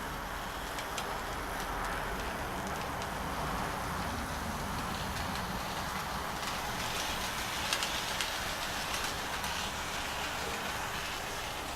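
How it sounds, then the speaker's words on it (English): A steady whirring rumble runs throughout, like an N gauge model train locomotive's small motor driving wheels along a track, even and continuous with no voices. "It's a train set loco basically."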